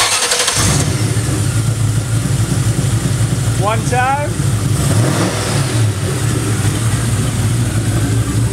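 A 1964 Mercury Comet fitted with a carbureted Cobra engine from a 1999 Mustang fires up and revs loudly close by, holding a strong, steady roar throughout, with a brief spoken word near the start.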